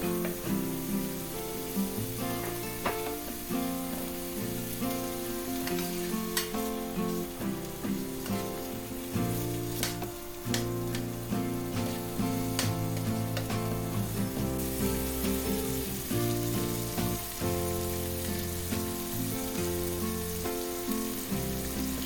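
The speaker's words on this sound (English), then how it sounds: "Then I'm just gonna add the sausage into the bacon grease, and I'm gonna let the sausage brown up." Sausage frying in bacon grease in a skillet gives off a loud, continuous sizzle and crackle, close and steady throughout with no talking.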